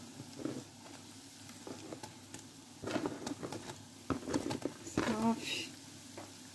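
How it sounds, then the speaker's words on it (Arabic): Briouats frying in plenty of oil in a pan, a fairly faint crackling sizzle with irregular pops that grows busier toward the end, with a voice speaking at times. "الكاسرونة عندي درت فيها الزيت بزاف، غندير كلشي تقلب دقه واحده"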